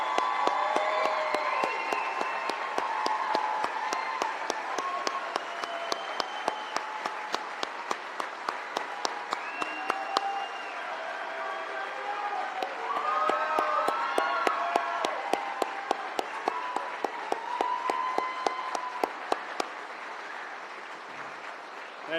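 A large audience claps steadily at the 140th Columbus Police recruit class graduation ceremony, sustained applause with whoops and cheers rising from the crowd and faint voices mixed in.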